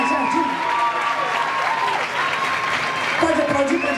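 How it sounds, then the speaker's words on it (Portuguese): An audience at a dance performance and choreography competition gives dense, continuous applause. A voice speaks over the clapping, and faint tonal sounds run beneath it throughout. "Pode aplaudir, pode aplaudir."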